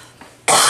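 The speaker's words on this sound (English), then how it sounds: "Cough that way." A person gives a loud, close cough that bursts out suddenly after a quiet moment and dominates the short stretch of sound.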